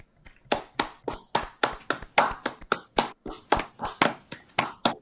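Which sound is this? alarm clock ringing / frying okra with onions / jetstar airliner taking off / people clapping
people clapping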